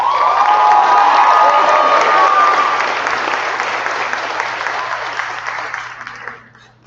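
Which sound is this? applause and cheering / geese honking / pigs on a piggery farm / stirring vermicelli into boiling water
applause and cheering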